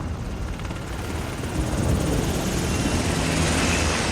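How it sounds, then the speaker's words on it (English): Helicopter in the Death Stranding video game, a steady loud rotor chop and engine roar that grows slightly louder partway through. "Get to the chopper."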